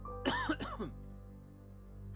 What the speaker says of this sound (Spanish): Un ataque de tos interrumpió al hombre